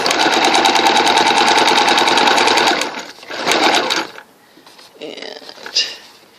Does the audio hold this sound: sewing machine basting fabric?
yes